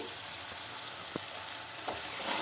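Onion frying in a pan for paneer bhurji gives a steady, quiet sizzle throughout, with a few soft stirring knocks scattered over it.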